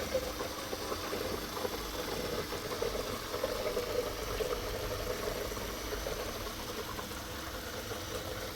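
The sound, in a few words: dishwasher filling with water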